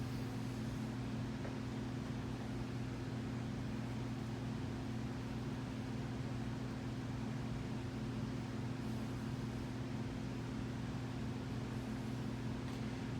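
A Sears Emerson Turn of the Century 52-inch ceiling fan with a drop flywheel runs on low speed in updraft mode, giving off a steady, quiet motor hum and soft airy whoosh that stays constant throughout.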